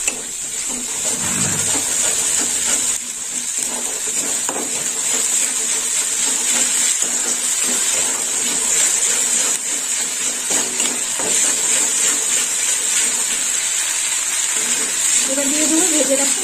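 Gourd and urad dal cook with ginger and fennel paste in a pan, giving a steady sizzle and bubbling hiss with occasional scrapes of a spoon as it is stirred. The sound runs continuously and close throughout.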